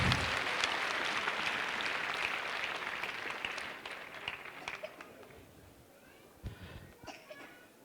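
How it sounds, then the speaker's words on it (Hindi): Audience applause at a life-changing seminar for parents and children, loud clapping at first that thins into scattered claps and fades, with a few isolated claps later. "उन सब के लिए जोरदार तालियां एक बार लगा के उनको"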